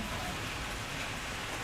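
Steady rain falling in Malaysia, a dense, even hiss of drops hitting surfaces, close and continuous throughout with no voices.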